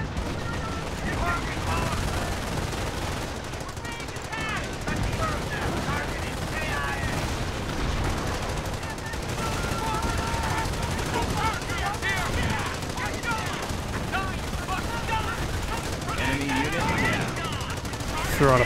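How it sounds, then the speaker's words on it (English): Dense machine gun fire and other battle gunfire from the WWII strategy game Company of Heroes, in the Carentan counterattack, a steady loud barrage of rapid bursts throughout with game voices mixed in. "I want to take out that machine gun if I can."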